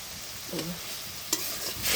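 Turmeric, salt and chilli are stirred in a hot pan, giving a quiet sizzle broken by a couple of brief scraping stirs, faint and close, with no voices.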